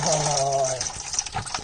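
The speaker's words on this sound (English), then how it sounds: "She's a gusher, Alf." Coolant gushing and splashing out of a Citroen DS3 1.6 VTi petrol engine during a water pump replacement, a steady pouring rush that breaks into scattered dripping and spattering, heard close and alone.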